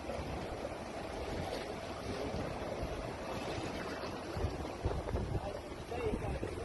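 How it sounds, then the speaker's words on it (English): A paddle aerator spins fast in water, churning a dense, continuous wash of splashing and rushing water with a few louder surges, fairly close. "I think it's just got a giant sort of paddle going around really fast, and that's creating the DO"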